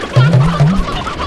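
Chickens clucking in the video game Slime Rancher, a short burst of loud, close, throaty clucks in quick succession.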